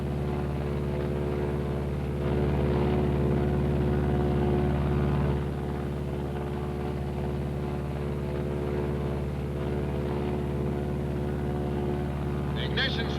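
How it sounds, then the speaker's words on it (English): A Martin B-26 bomber's engines drone in a loud, steady propeller roar, swelling briefly as one dead engine is feathered, with voices talking over the din. "I'm going to feather that dead engine."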